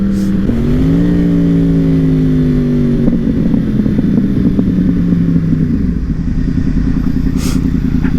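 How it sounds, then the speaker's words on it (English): An older Yamaha R1 sport bike motorcycle rides by with a droning engine note that rises and shifts pitch, loud and steady throughout. "Another sport bike rider up here."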